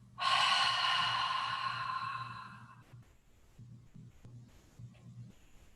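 A long, deep, breathy exhale during vinyasa yoga practice, loud and close for roughly three seconds, then fading into quiet room hush.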